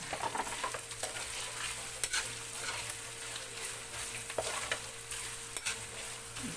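Chopped onions and garlic fry steadily in a pan for carbonara, a continuous soft sizzle with occasional stirring scrapes, close and alone with no talk.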